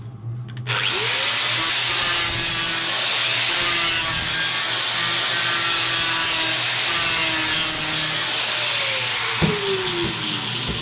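A part for a 100-year-old fuel tank repair being trimmed with a steady, continuous grinding or sawing whine that holds loud and close throughout, with no pauses or talk.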